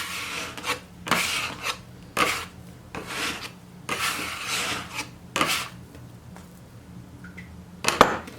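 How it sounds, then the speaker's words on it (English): Chocolate brioche dough being kneaded by hand on a work surface, a steady run of rhythmic rubbing and slapping strokes about once a second, close and moderately loud, with a sharp knock at the end. "knead it for a few more minutes with my hands"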